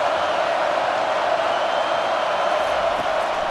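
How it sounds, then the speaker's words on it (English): A packed college football stadium crowd roars steadily on third down at a UAB versus Tennessee game, a dense, unbroken wall of noise sustained throughout with no break. "Third down, and this crowd is tearing the lid off this place."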